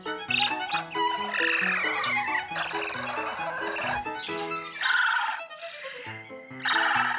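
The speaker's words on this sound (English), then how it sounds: "The noisy chirping and trilling are happy, excited sounds prompted by the bounty of grapes." Busy, high-pitched chirps and trills from marmosets eating grapes overlap continuously over a faint tonal background, excited and fairly close.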